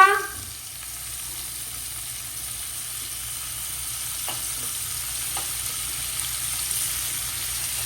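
Paneer sizzles steadily in a hot pan, a constant crackling fry at low level with a faint hum underneath.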